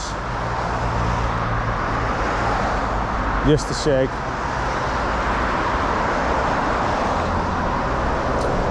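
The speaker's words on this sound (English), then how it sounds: "why is it so noisy? Because of the cars." Steady roar of passing car traffic on a busy road, continuous and fairly loud, with someone briefly speaking over it.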